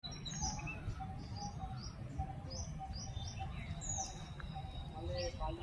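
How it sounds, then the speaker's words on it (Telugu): Birds chirp and tweet repeatedly in the grounds of the Saraswathi temple at Osmania University, with bright short calls scattered over a constant outdoor rumble and background murmur. "మనం ఎంతసేపు కూర్చున్నా పక్షుల సౌండ్ మాత్రం ఖచ్చితంగా వినిపిస్తుంది మీకు."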